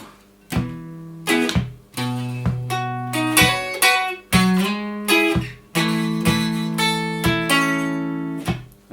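Guitar plays bar 4 of a song as a steady run of arpeggiated chords, each picked note ringing into the next, clear and close with nothing else heard.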